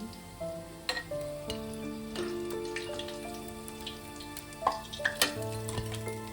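Chicken pakora crackles and sizzles as it deep-fries in hot oil, a steady close-up bubbling with sharp pops and spatters and faint background tones, no talking.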